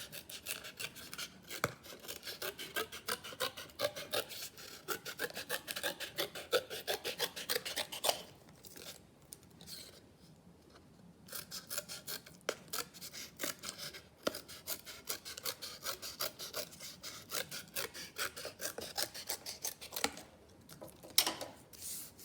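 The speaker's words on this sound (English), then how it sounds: "So if we take the piece of brown card, we can just cut a strip." Scissors snip and rasp through a strip of brown card for an owl craft, a long run of rapid, close cutting strokes with brief pauses, fairly quiet and without talk.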